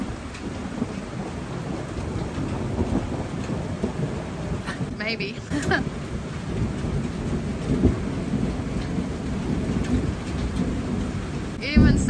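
Thunderstorm over an outdoor fencing job in Eatonton, with steady heavy rain drumming on surfaces and low thunder rumbling throughout. A voice speaks briefly and faintly under the downpour.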